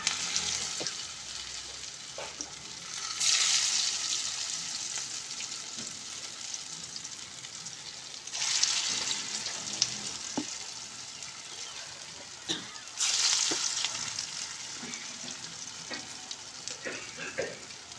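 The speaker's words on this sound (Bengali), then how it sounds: "চপের মতো করে ফ্রাই প্যানে তেল দিয়ে এগুলোকে আমি ভেজে নেব।" Masoor lentil kebabs, shaped like chops, fry in oil in a frying pan with a steady, close sizzle. Three brief louder surges of hiss and scraping from stirring or turning punctuate it, with no voices.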